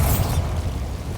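A Bombarda blasting spell explodes in Hogwarts Legacy, a loud, close boom with a dense low rumble that tails off into a sustained roar after its first burst.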